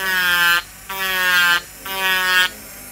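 An electric nail file drill with a carbide bit runs in three sustained whining bursts separated by brief pauses, loud and close, grinding along an acrylic gel nail.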